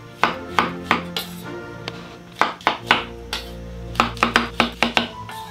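A knife chops Paris mushrooms on a board, sharp, close thuds in an irregular run of about a dozen strokes, with a steady low hum underneath.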